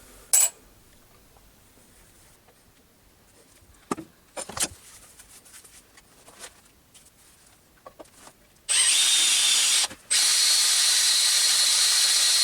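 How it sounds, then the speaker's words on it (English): Quiet clicks and handling noises, then a loud, steady power drill whine bursts in, pauses briefly, and resumes drilling through a metal plate into a Myford lathe bed. "I should be able to drill straight through this plate and into the"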